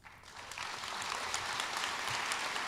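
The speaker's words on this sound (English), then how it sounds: "And that deserves a round of applause." At a medical school celebration for the graduating class of 2024, the audience breaks into applause that builds quickly into a steady, even wash of clapping, moderately distant and continuing to the end.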